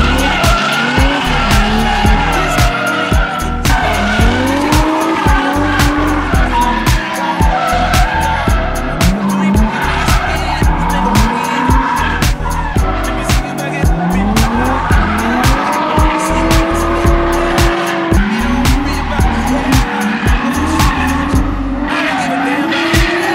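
A car drifting at Minami circuit in Japan, loud engine revs rising and dropping while the tyres squeal and skid in long repeated slides, close and continuous.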